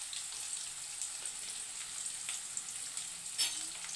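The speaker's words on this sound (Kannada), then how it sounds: "ಎಣ್ಣೆ ಕರಿದೆ ಫ್ರೆಂಡ್ಸ್, ಈರುಳ್ಳಿ ಹಾಕ್ತಾಯಿದ್ದೀನಿ ನೋಡಿ. ಇವಾಗ ಸ್ವಲ್ಪ ಹಸಿಮೆಣಸಿನಕಾಯಿ ಹಾಕ್ತಾಯಿದ್ದೀನಿ" Onions and green chillies fry in hot oil for egg rice, giving a steady soft sizzle and crackle with a few brief stirring clinks, fairly quiet and without talk.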